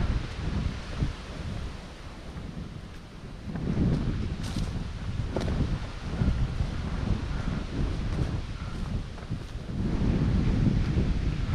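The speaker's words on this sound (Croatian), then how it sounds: "Evo malo zvukova vjetra i životinja." Wind blows across a mountain hiking trail on Bjelolasica, a low, steady rumble that swells into stronger gusts buffeting the microphone, with no talk.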